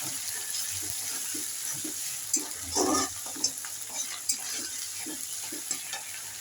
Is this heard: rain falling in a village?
no